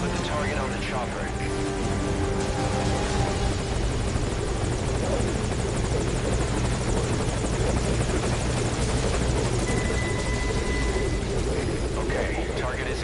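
Military helicopter hovering at a landing zone in Metal Gear Solid V: Ground Zeroes, a loud, continuous rotor and engine drone holding steady throughout, with radio voices talking over it.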